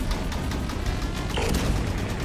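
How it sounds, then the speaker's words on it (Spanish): Continuous rapid gunfire from an overheating weapon in the video game Halo 5 Guardians, a loud, dense barrage with no pause through the short burst. "Solo puedo disparar, digamos, un poco y después se me sobrecalienta esta arma."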